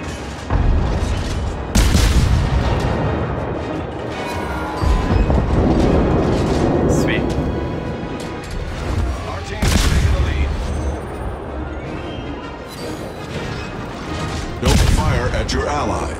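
A warship in World of Warships, the USS Victrix, fires armor-piercing rounds, with several loud, heavy booms spread across the stretch against continuous rumbling battle noise, and someone talking over it.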